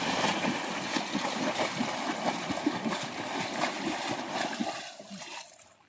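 Floodwater after a cloudburst swishes and splashes around a person wading through a flooded cotton field, a continuous watery rush that carries on steadily before dropping away at the end.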